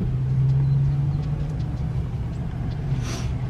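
Interior of a moving car, a steady low engine hum and road rumble with a faint tonal drone early on, constant and close, no talking.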